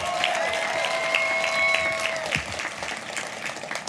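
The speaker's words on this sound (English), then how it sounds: "Give yourself a round of applause." Graduates at a Class of 2023 commencement ceremony applaud in a dense, steady burst of clapping that fades after a couple of seconds, with a faint tonal ring over it.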